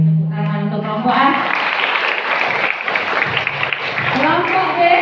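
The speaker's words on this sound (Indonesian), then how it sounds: "Sekali lagi tepuk tangan untuk kelompok A." Applause for group A at an Islamic boarding school quiz contest, a crowd clapping steadily throughout, with a voice talking at the start before the clapping swells.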